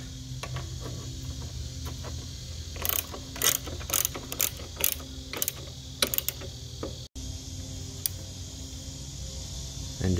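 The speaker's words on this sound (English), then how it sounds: "get my ratchet on it." Hand ratchet tightening a battery terminal bolt on a Troybilt TB30R string trimmer, a series of quick clicking pawl bursts over a steady background hum, close and clear with no talk.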